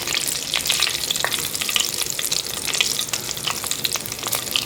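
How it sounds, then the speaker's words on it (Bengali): Whole cumin and coriander seeds frying in leftover fish oil for a Bengali katla fish curry, a dense continuous crackling sizzle with tiny popping spits, close and even throughout. "সেই তেলটাতেই আমি এখন পুরো রান্না করবো কিছুক্ষণ ভেজে নেব"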